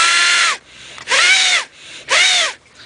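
A carrot hollowed into a flute sounds three separate breathy, high-pitched blown notes, with the second finger hole plugged. Each note holds about half a second, the pitch sliding slightly, with short gaps between, close and fairly loud.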